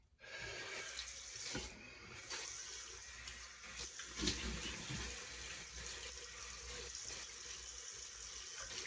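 Water runs from a sink tap for a warm face rinse, a steady close splashing rush with a brief shift in flow partway through, heard alone without speech.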